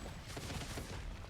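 Fireworks in the video game Risk of Rain 2 crackle in a rapid, continuous barrage of small bangs, fairly faint and steady throughout, with no talking.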